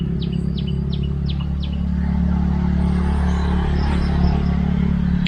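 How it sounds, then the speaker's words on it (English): Several short, bright bird chirps in quick succession near the start of the clip, in a tropical garden in Chiang Rai, northern Thailand, over a steady low hum of passing traffic that continues after the calls fade. "There's loads of birds nesting in the garden now."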